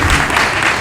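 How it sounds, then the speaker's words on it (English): An audience at a Eureka Moments entrepreneur event claps in a brief, dense burst of applause that fills the room. "little bit more clapping"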